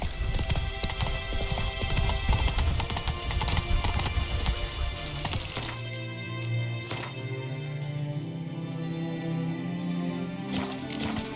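Roach the horse trots along in The Witcher 3, hooves clip-clopping in a steady rhythm, loud at first and then softer as the surroundings quiet down.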